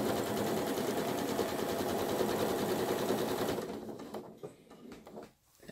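Sewing machine stitching upcycled overdyed jeans fabric runs loudly in a fast, steady whir for several seconds, then slows and stops, leaving a few soft handling clicks.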